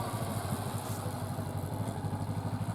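A motorcycle engine runs at low speed with the throttle barely open during a riding lesson, a steady close chugging drone with a throbbing low pulse and no talking over it.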